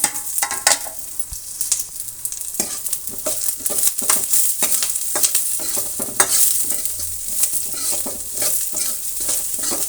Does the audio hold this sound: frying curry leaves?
yes